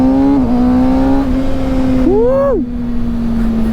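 A Kawasaki Ninja ZX-6R sport motorcycle's engine drones loud and steady, then revs up sharply in one rising surge before dropping back to a steady tone.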